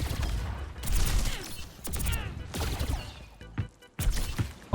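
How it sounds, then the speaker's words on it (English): Volleys of homing sticky bombs fired and then detonating after a delay in Overwatch 2, heard as clusters of sharp pops and thumps in separate bursts with mechanical clicks between, loud and close. "Fire a volley of homing sticky bombs that detonate after a delay."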